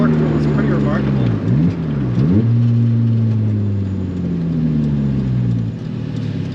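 A supercharged Lotus Exige 240 S engine pulls hard in sixth gear, a loud, close, droning tone with a brief dip and recovery as it keeps accelerating steadily from inside the car.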